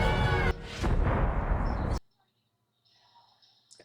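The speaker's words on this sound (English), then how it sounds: "It was trying to make you think there was an explosion." An explosion effect in an episode of The Penguin TV series: a sudden loud burst and roar lasting about a second and a half, then cutting abruptly to near silence with faint ambient sounds after.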